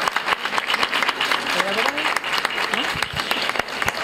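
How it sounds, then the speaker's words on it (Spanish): Lively applause from a gathered crowd at a May Cross festival in Churriana after the cross is blessed, many hands clapping fairly close with a few voices mixed in. "Pues yo creo que esto se merece un aplauso"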